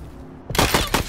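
A machine gun in Wasteland 3 opens up after a quiet moment with a close, loud burst of rapid rhythmic shots, about four or five distinct cracks in quick succession.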